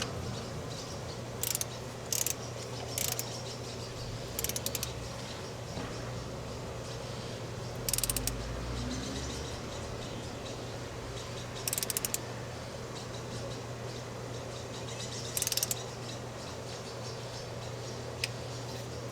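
A torque wrench ratchets in short bursts of sharp clicks while bolts on a junkyard bullnose Ford are tightened to 10 foot-pounds, the clicks spaced out over a low steady background hum.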